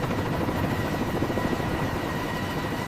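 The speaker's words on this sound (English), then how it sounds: "helicopter now taxis safely on the paved flight deck" An AH-1Z Viper attack helicopter taxis on a paved flight deck, its rotor and turbine making a loud, steady, continuous roar with no voices.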